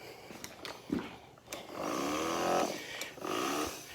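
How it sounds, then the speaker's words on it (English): A Victory handheld rechargeable battery sprayer hisses out a steady mist in two sustained bursts, each about a second long, after a few short clicks and handling knocks. The sound is close and fairly loud, with no talk over it. "But this is a Victory handheld rechargeable battery sprayer."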